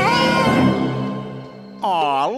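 A cartoon lion cub lets out two high, meow-like little roars, the first drawn out and the second a rising and falling cry after a short pause.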